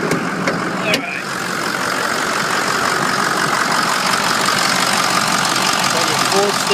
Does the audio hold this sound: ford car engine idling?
yes